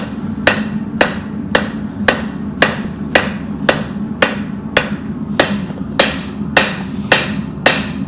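Hammer blows ring on knife steel over an anvil while forging and drawing out a blade, about fourteen sharp, evenly spaced strikes close up, each ringing briefly over a steady low background hum.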